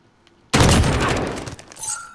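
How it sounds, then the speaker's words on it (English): A cruise missile launch in Call of Duty: Modern Warfare bursts in suddenly after near silence, a loud roaring blast that stays heavy and then slowly fades with a lingering rumble. "Cruise missile, go for launch."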